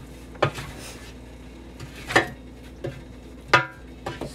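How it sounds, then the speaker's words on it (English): A spoon stirs seasoned chicken pelau mixture in a pot, giving a few sparse scraping clinks against the metal with quiet gaps between them, close and moderately loud. "When you stir it up, you're gonna get everybody into the mixture."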